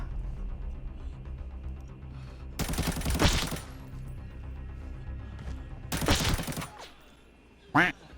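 Two loud bursts of rapid automatic gunfire in the video game Arena Breakout rattle out, each lasting about a second, over a low background hum, with a brief sharp sound near the end.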